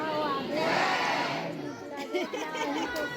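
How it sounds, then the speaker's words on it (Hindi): Dense crowd of pilgrims on the stairway to the Bamleshwari temple in Dongargarh, a close, steady wash of many overlapping voices with shouts and children's calls rising out of it. "भीड़ बहुत ज़्यादा थी तो बहुत देर खड़ा रहना पड़ा।"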